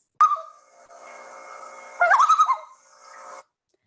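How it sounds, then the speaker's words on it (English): A recorded loon call plays alone: a clear, wavering wail rising from silence, which then breaks into a quick, yodel-like tremolo before fading out within a few seconds. "It's the call of the loon"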